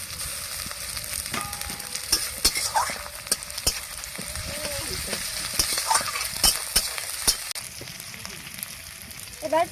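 Ginger paste is added to onion, garlic and cumin frying in a pan, producing a loud, even crackling sizzle with regular scraping and knocking of a stirring utensil nearby, and a voice heard only briefly.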